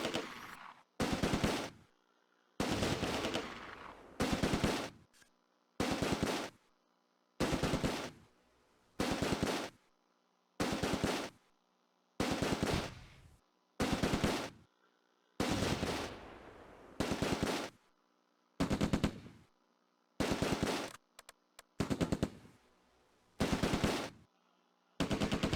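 Machine gun bursts in the Close Combat wartime strategy game, a long run of short rattling volleys separated by brief silences, steady and fairly quiet, with no voices.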